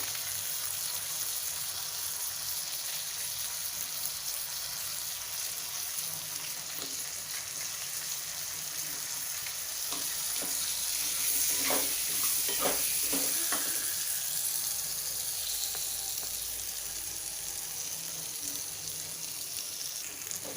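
Eggplant pieces, stems included, fry in a pan and are stirred for a potato and eggplant curry, giving a steady hiss with a few clustered scraping strokes midway and no talk.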